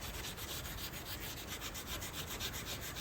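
Steel wool scrubs surface rust off a steel part in a workshop, a quiet, rhythmic rubbing hiss of quick back-and-forth strokes, close and faint, with no talk.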